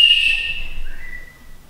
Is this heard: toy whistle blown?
yes